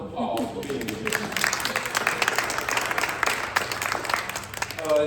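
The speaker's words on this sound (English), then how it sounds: "And can you give yourselves a round of applause for being here?" Attendees at a rural Kansas town hall clap for themselves, a sustained wash of applause from a crowd filling the room, with a voice briefly audible at the start and end.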